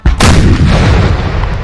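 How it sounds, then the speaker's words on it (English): A single booming cannon shot from a Napoleonic battle in a Napoleon Total War 3 mod, loud and close, with a sharp onset followed by a long rumbling decay. "that cannon noise is really nice"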